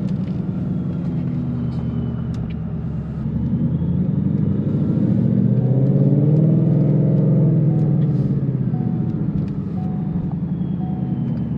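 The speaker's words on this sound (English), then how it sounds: "So we're gonna take a little drive. This is my supercharged 2015 Mustang GT." Supercharged 2015 Ford Mustang GT with about 700 wheel horsepower and a manual gearbox, heard from inside while driving: a steady low engine drone that swells in the middle as it pulls harder, then settles back.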